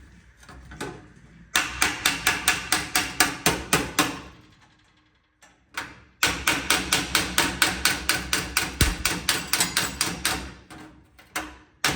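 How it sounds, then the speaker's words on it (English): Rapid, evenly spaced metallic hammer-and-dolly blows on tack-welded sheet-metal patch panels for widened F1 fenders ring out in two long runs, close and sharp, separated by a short pause with a few scattered taps. "just hammer and dolly those tacks"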